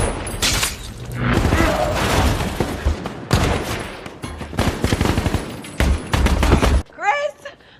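Gunfire erupts in a war film scene about an American sniper, with bursts of rapid shots and heavy blasts layered over a loud, dense background, mixed with shouting voices, ending in a brief quieter vocal tail.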